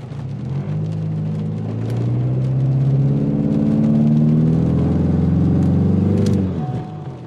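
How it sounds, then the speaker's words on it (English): A car running E85 revs in second gear to build boost, engine note rising into a loud, sustained drone that climbs steadily before dropping off near the end, close and alone. "Let's just start building up our RPM here."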